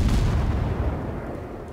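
Naval cruiser guns fire in World of Warships, a heavy booming salvo that rolls out and decays over a couple of seconds, loud and close with no voices.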